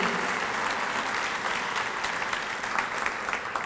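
An audience applauds Mayor Jane Castor at the City of Tampa's Hispanic Heritage celebration, with steady, dense clapping filling the room evenly from start to finish.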